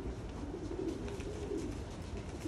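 Young racing pigeons on a 30-kilometer training toss coo softly and continuously, a low burbling murmur from several birds close by over a steady background hum, with no voices.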